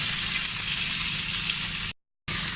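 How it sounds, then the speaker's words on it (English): Chicken frying in overheated oil in a student kitchen, a loud, dense, continuous sizzle with spitting crackles, close to the pan, cut briefly by a short dropout near the end. "I definitely cooked the oil for a little bit too long. It's very like spitty and sizzly."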